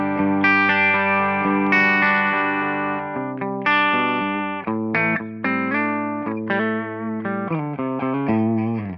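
Electric guitar playing chords and a melodic line through a combo amp's Celestion G12M Creamback speaker with a fairly clean tone; steady, close and moderately loud, no voices.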